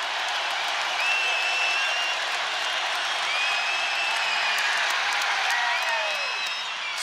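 A college basketball arena crowd roars and applauds at a West Virginia at Oklahoma State game, a loud, sustained cheer with whoops and whistles, while a commentator speaks over it.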